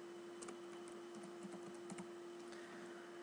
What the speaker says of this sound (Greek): γράφω το κωδικό.